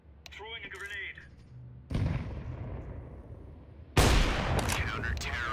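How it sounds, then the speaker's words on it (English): A grenade goes off in Counter-Strike 2 on the Nuke map, a loud burst of blast noise after a short voice, then a second, sharper explosion that rings out to the end. "Throwing a grenade."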